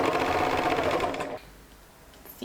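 An overlock machine sews the underarm seam of a baby romper, a fast, dense buzzing whir that runs for over a second and then cuts off, leaving near silence.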